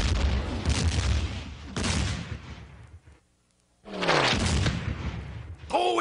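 Cartoon artillery fire from an artillery range, with loud, noisy blasts booming in succession, a short quiet gap, then more explosive bursts, with voices among them.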